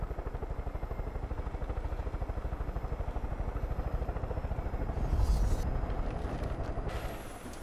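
Helicopter in a French-language video game, apparently half-broken, with a steady rapid rotor chop and engine drone throughout, swelling briefly louder near the end, with no talk.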